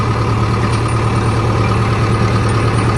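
A 4x4 tractor engine idles close by, a loud, steady low rumble with a constant throb that holds unchanged from start to finish, with no voices over it.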